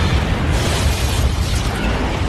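An enemy spaceship hit by plasma cannon fire in a science-fiction battle erupts in a loud, dense, rumbling explosion that roars steadily for a couple of seconds.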